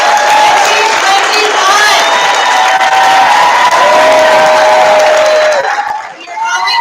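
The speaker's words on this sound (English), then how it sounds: "Can we get another round of applause for the class" A large crowd applauds and cheers for the graduating class of 2021 at a school moving-up ceremony, with steady loud clapping, whoops and shouts. The cheering runs for several seconds and fades near the end.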